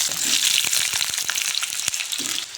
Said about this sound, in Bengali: প্রথমে চিকেন কষার জন্য আলু ভেজে নেব।